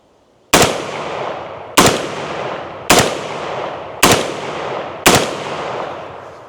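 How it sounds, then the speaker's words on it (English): Hi-Point HP-15 AR rifle fires five loud, sharp shots about a second apart, each crack followed by a short echoing decay, with no talking. "We're gonna do 5 shots."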